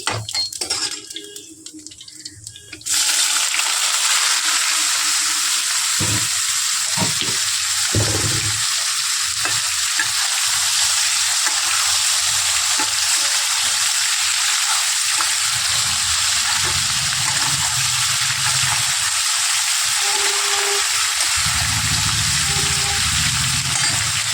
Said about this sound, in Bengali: এদিকে তেল আমার গরম হয়ে গেছে, এবার বড়াগুলো ভেজে নেব